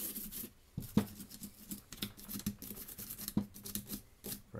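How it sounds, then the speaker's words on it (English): A brush scrubs grease out of a Walther P22 pistol with quick, uneven scratchy strokes and occasional small clicks, close and quiet, with no talking. "Brush out as much as I can."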